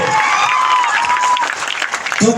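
Rally crowd in a Madhepura stadium breaking into sustained applause, dense clapping filling the space at steady volume with a faint cheer rising briefly early on.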